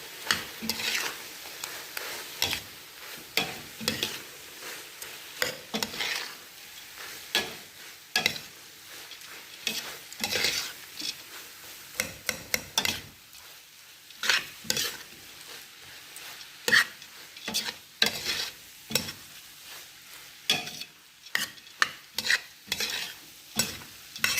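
Jareesh is stirred in a frying pan, a spoon scraping and clinking in repeated irregular strokes over a soft sizzle, close and moderately loud, with no speech.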